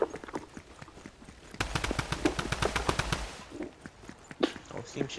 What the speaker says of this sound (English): You can tap fire with Tommy's.